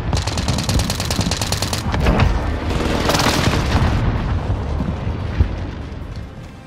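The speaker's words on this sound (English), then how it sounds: "Enemy precision airstrike." A precision airstrike in a battle royale video game, landing as a rapid string of heavy, booming explosions with crackling bursts, loud and continuous throughout.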